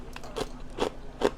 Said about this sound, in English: Has a nice crunch to it.